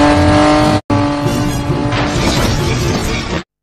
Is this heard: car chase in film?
yes